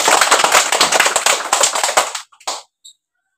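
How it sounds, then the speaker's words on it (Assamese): Students in a school classroom clap their hands together in a quick burst of sharp, rhythmic claps for about two seconds, then a few scattered final claps trail off into silence. "নিৰণৰ কাৰণে চবে হাত চাপৰি দিয়া।"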